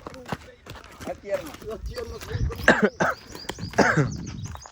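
Several coughs and throat-clearing bursts come close up, mixed with talking voices and light background bustle.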